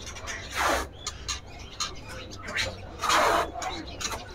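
A greater green leafbird sings in short, bright bursts with pauses between, close by, with a low hum underneath.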